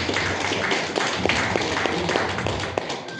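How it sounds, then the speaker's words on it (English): An audience claps in a sustained, even patter of many hands at a community gathering of pastors and congregation members, fairly close and moderately loud, with no speech over it. "I like to give a clap to it."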